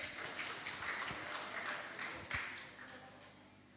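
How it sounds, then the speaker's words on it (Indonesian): Audience at an HKBP church Ucok Butet Naposo contest clapping for the young participants, a steady mid-distance round of applause with a few louder claps and fading near the end. "Beri tepuk tangan yang meriah dong buat peserta ucap butet kita hari ini."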